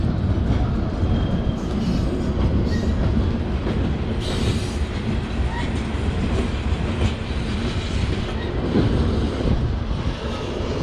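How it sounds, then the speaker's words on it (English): A train rumbles past continuously with loud, steady clattering and rolling noise, no voices. "waiting for the train"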